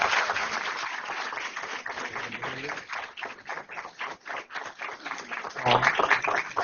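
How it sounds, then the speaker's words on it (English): Audience at a school board meeting claps as students come in, a steady crackle of hands with voices talking and calling out over it throughout. "Give them a round of applause while they're coming in."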